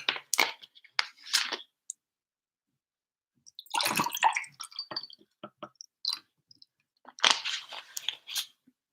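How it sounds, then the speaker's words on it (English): Water is poured into a drinking vessel to top it up, in three separate close bursts of splashing and trickling with silent gaps between them. "Aries, let me top up my water quickly."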